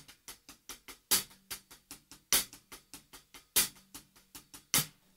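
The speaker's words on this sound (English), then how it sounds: "so that on the hi-hat would sound like this" Double paradiddle pattern played on a hi-hat, with the first single stroke of each hand accented: a steady run of crisp, close ticks with louder, brighter hits recurring at regular intervals, played alone.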